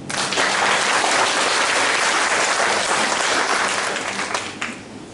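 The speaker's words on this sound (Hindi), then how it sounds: "तो इसके लिए आप पहले ताली बजाएं।" A seated audience at a spiritual talk breaks into loud, dense applause that holds steady for several seconds and then thins out toward the end.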